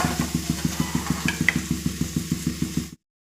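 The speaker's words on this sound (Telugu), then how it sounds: "చికెన్ కర్రీ ఇక్కడ మసాలా వేపుకుంటున్నాను అనమాట" Masala for chicken curry fries in a pan with steady, rhythmic scraping as it is stirred, a close, even sizzle pulsing through about three seconds before cutting off.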